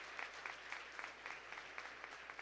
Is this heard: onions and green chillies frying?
no